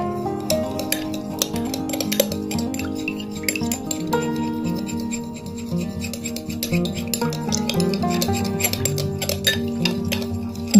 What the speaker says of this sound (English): Mix well the gel like so